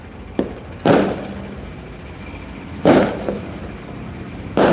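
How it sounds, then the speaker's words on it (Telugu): Firecrackers go off in sharp, loud bangs, about five in all, spaced unevenly with a couple of smaller pops between them. No voices. "ఇదిగో కనిపిస్తున్నాయి కదా టపాసులు మందుగుండు"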